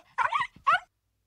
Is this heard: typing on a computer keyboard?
no